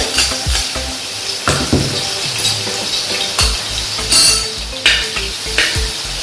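Chopped garlic frying in hot sesame oil for a pickle, a loud close sizzle with repeated scraping stirs and metallic clatters of a utensil against the pan.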